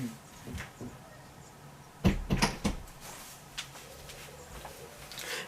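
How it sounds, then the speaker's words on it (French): Indoor door pushed open by a cat, a quick cluster of faint knocks and latch clicks lasting under a second, set against quiet room tone. "le chat a ouvert la porte"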